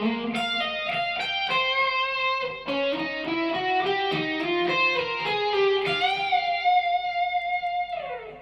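Harmonized lead guitar solo from Airplay's "It Will Be Alright," with overdriven, effected tone and two voices moving in parallel over a steady line, bends and sustained notes, loud and close with no talking.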